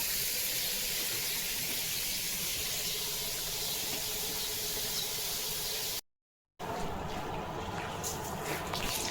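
Dog Leo playing with water gushing from a garden pipe, a continuous hissing, splashing spray that is briefly cut off before resuming with scattered splashes.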